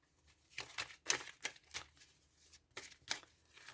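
Oracle cards for a tarot-style reading being shuffled by hand, a quiet series of soft, papery riffling bursts in an irregular rhythm, close by with no talking.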